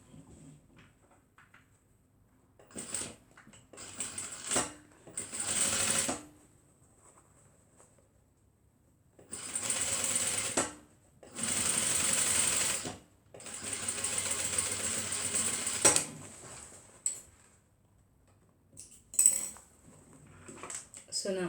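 A sewing machine stitching a beach tote bag in several bursts of rapid mechanical whirring, separated by quiet pauses and light clinks of handling.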